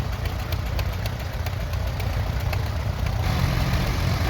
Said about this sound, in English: And here we have a John Deere